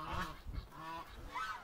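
Farmyard ducks calling in cold, sunny March weather, a few harsh nasal honking calls repeating at moderate distance, with low background rumble and no talk.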